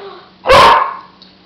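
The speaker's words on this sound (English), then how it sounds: "That was my dog." A single loud, close dog bark bursts out in an indoor kitchen setting, then fades into quiet.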